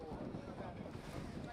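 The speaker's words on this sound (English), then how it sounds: "So windy conditions here." Gusty wind buffets the microphone at an outdoor football match, a constant broad roar filling the moment, loud and unbroken with no clear voices.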